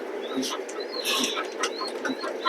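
Pigeons coo in a loft, several low throaty calls repeating about every second beneath a busy bed of chirps and background chatter, with a voice talking faintly nearby.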